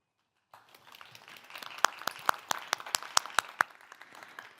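Audience at an evening business event applauding as a speaker comes up, clapping starting abruptly after silence and building to a mix of sharp close claps over a dense patter.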